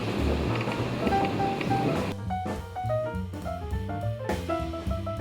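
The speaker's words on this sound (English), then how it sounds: "It's where the water runs out of through that little weir." Water spilling steadily through a small weir at the outflow of the upper lake at Forest Lake, a close broadband rushing with birds calling faintly over it.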